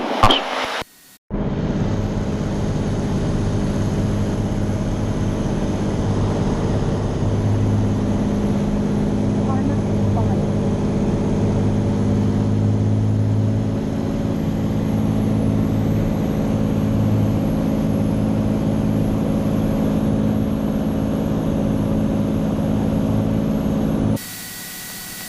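Steady drone of a Cirrus SR22 single-engine light aircraft in cruise on an IFR flight, a continuous low engine and propeller hum with airflow heard from inside the cabin, broken only by brief bumps at the start and end.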